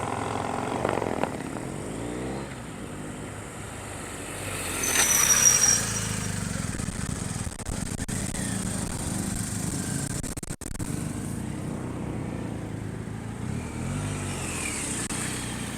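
A motorcycle on a training course at Willow Springs International Raceway running through a quick stop, sharp turn and cone weave, its engine droning and rising and falling at a moderate distance, with no talk.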